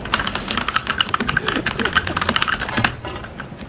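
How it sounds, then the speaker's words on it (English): Rapid keystrokes on a gaming computer keyboard, close and fairly loud, clicking in uneven bursts for about three seconds before tapering off, with faint background talk from friends. "the only ASMR I'm getting at the moment is from Logic's keyboard"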